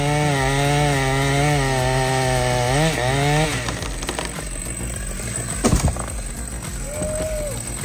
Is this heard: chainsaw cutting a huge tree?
yes